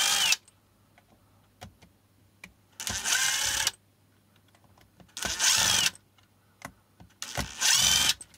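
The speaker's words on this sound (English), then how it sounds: "I've got a Torx 10 bit in my impact driver. And that's what I'm going to use to remove these" An impact driver with a Torx 10 bit removes screws from a Mahle X35 e-bike battery in three loud, close bursts of rattling hammering, with small clicks and quiet gaps between them.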